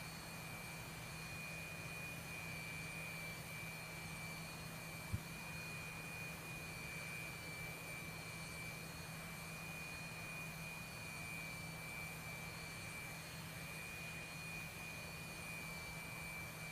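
Video game jet aircraft landing on a runway after a Cobra maneuver, without a drogue chute: a steady, faint engine hum with high tonal whines, continuous and unchanging, with one brief tick partway through.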